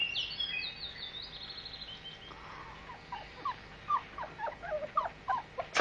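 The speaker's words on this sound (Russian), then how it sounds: "Собака? Откуда здесь собака?" A dog whimpers in faint, high, thin whines, with a longer drawn-out cry followed by a string of short broken yelps heard over quiet background noise.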